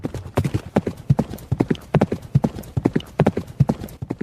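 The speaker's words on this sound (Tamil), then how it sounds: "மூணு பேரோட குதிரைகளும் எவ்வியூர்ல இருந்து வேட்டுவன் பாறையை நோக்கி புறப்பட்டுச்சு" Rhythmic clip-clop of several horses' hooves setting off together, loud and close, with steady overlapping beats and no voices.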